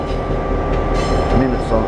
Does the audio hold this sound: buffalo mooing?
no